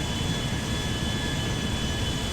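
Airbus A350 mod airliner taxiing on the ground in the video game GTA 5, a steady, continuous jet engine roar with a faint high whine, held at an even level throughout with no talk.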